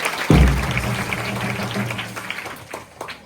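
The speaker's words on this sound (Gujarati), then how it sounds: "સરસ, જોરદાર તાળી" A group at a school entrance celebration breaks into loud clapping after yoga poses, starting with a sharp burst and then continuing as steady applause that slowly fades near the end.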